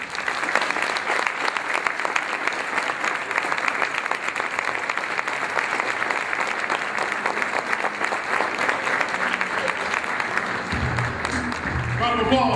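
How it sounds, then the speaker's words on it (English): An audience applauds the 2012 Phenomenal Man of the Year award winner with dense, sustained clapping that stays loud and even for about twelve seconds, with a voice entering near the end. "Round of applause, 2012 Phenomenal Man of the Year, and Thierry."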